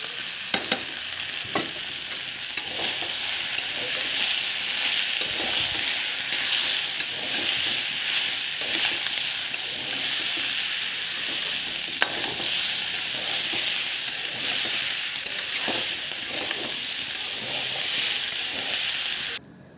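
Mixed vegetables frying in a pan with salt, turmeric, ground cumin and coriander, a steady loud sizzle and hiss throughout, with frequent scraping stirs from a utensil against the pan, no talking.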